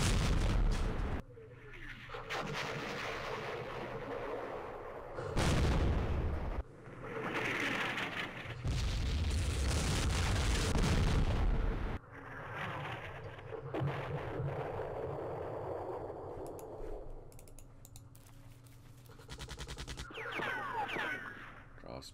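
Artillery barrages exploding in the Campaign Series Vietnam war game, several loud, heavy booms and rumbling blasts arriving in bursts with quieter stretches between them, partly mixed with game sounds and a voice.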